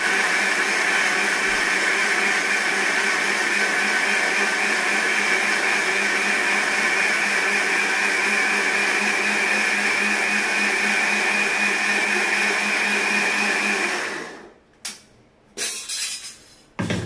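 An electric kitchen grinder runs with a loud, steady motor whine and rattle for about fourteen seconds, then shuts off, followed by a few brief clatters as it is handled.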